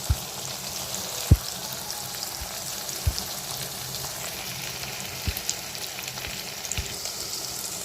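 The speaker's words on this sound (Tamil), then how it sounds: "இப்போ பாருங்கள், நல்லா தக்காளி பச்சை மிளகாய் வதங்கிட்டு" Tomatoes and green chillies sauté in a pan, giving a steady close frying crackle and hiss with a few isolated soft knocks or taps spaced through it, and no one talking.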